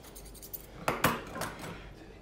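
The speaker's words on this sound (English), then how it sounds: "Just letting the curve in my shears do the work." Curved grooming shears trim a poodle's top knot, making a few soft metallic snips close by, the strongest two clustered just past midway, over a quiet room background with no speech.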